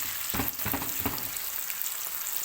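Liver and onions frying in a pan while being stirred, a steady bright sizzle broken by a few quick scraping stirs in the first second, close and fairly quiet with no talk.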